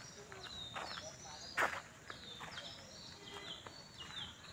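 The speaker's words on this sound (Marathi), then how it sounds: "तर पाखरांचा आवाज लय भारी येतो इथं." Small birds chirp and call among a cluster of three or four banyan trees near a village, with short high calls repeating throughout over a steady outdoor background and one brief louder rustle partway through.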